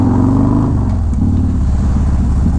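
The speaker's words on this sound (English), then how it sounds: "Crazy how different this bike sounds from my Road Glide. This has a very, very raspy sound to it." Harley Road Glide 107 with a Star Racing 3030 cam and Bassani exhaust idles nearby, a loud, raspy, lumpy rumble that stays steady throughout, with no one talking.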